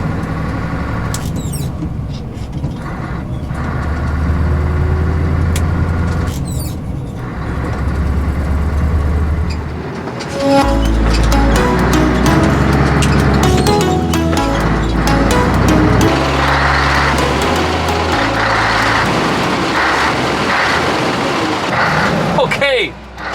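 A parked Scania 770 S V8 truck engine is revved from outside, its deep, throaty bursts rising and falling after a quieter stretch, with someone talking over much of it.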